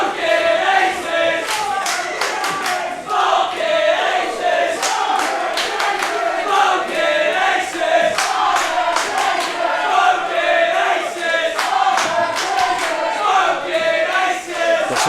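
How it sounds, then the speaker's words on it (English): A wrestling crowd at a live pro wrestling show trades rhythmic dueling chants, loud and sustained, with punctuated shouts and claps filling the hall. "Got some dueling chants going on in the crowd right now."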